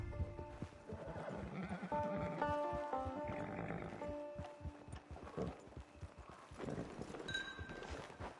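Horse hooves clip-clop at a walk in the video game Red Dead Online, irregular and close, while soft game ambience and a few tonal sounds play behind them.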